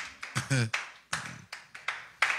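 A church congregation claps in short irregular bursts, a handful of separate smacks spread across a couple of seconds, fairly faint and roomy, with a voice briefly mixed in.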